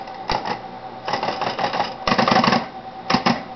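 An SCM Coronet Super 12 electric typewriter types in short bursts of rapid, close mechanical key strikes with motor hum, separated by brief pauses.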